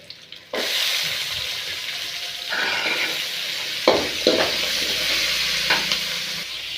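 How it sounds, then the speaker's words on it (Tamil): Onions sautéing with garlic in a pan while making village-style tomato thokku, with a steady loud sizzle throughout and occasional stirring scrapes. "வெங்காயம் நல்லா வதங்கி வரட்டும்"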